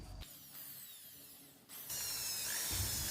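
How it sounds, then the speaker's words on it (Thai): Electric drill spinning steadily to mark the centre of a nut for a homemade wire bender, a whirring motor tone that cuts out briefly and then resumes louder, close and alone. "ให้เรากดสว่านนะครับ แล้วก็ใช้มาร์กเกอร์ขีดนะครับ"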